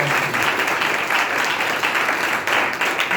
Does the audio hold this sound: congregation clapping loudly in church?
yes